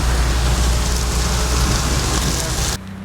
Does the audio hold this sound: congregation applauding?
no